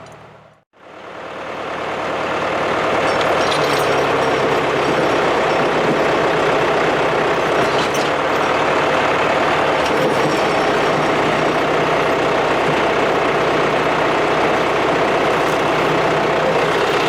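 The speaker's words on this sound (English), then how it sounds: "and then we're going to get out the tractor." John Deere 2750 farm tractor engine idling steadily outdoors, a continuous close, loud diesel rumble that holds even and unbroken for over fifteen seconds after a brief quiet start.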